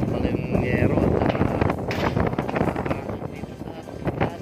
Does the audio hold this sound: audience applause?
no